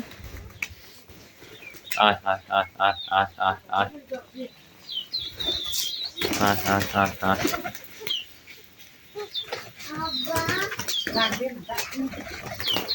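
Pigeons cooing in a loft in winter, with young birds among them, repeated throaty coos in bursts close by, mixed with a few chirps and wing flutters, while a person talks over them.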